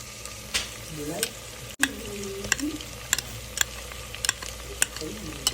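A spice tempering of chili, turmeric and coriander-cumin with chili paste sizzles in water for vaghareli khichdi, giving a steady fry hiss broken by sharp spoon clicks and scrapes close by.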